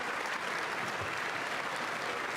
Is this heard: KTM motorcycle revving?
no